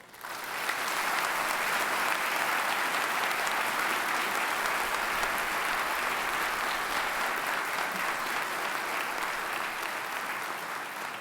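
Steady, full applause from a ceremony audience at the 2014 CDCR Medal of Valor Ceremony, dense and even from start to finish with no voices over it.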